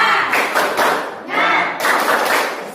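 A classroom group performs the rhythmic 'tepuk semangat' clapping routine, with loud bursts of many hands clapping together in quick patterned runs and brief pauses between phrases.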